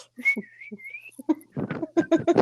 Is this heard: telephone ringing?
no